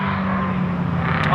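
An LS-swapped Nissan 350Z roars past at a morning track session, a loud, steady, throaty engine drone up close, with voices faintly talking underneath.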